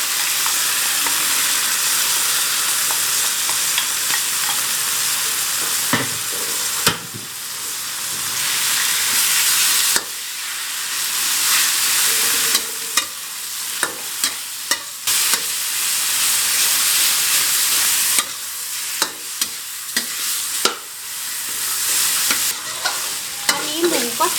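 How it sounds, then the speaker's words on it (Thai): Minced pork stir-fries in a pan with golden fried garlic, a loud continuous sizzle that swells and drops as the spatula scrapes and tosses, broken by brief pauses and clacks against the pan. "กระเทียมเหลืองหอมแล้วนะคะ ก็ใส่หมูลงผัดเลยนะ"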